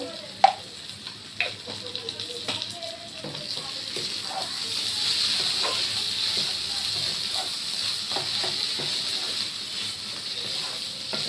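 Ghee sizzles in a hot pan, a steady moderate hiss after a couple of sharp clinks at the start, with faint utensil knocks scattered through.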